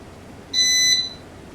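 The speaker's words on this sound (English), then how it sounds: "You'll hear the beep." A digital heater gives a single short, bright electronic beep as it is switched off, lasting about half a second and standing alone against a quiet room background.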